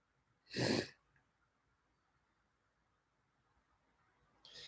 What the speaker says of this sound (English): If he sneezes again, we're all leaving.